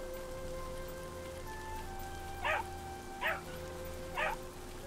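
A big dog-like bear creature in the video game Yonder lets out three short, evenly spaced barks over steady rain-like ambience and soft game music tones.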